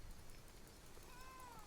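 A cat yowls in an angry, drawn-out meow with a wavering pitch near the end, faint and low against a steady background murmur, with no talking.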